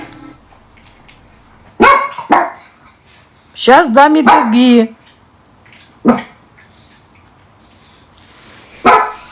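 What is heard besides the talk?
dogs barking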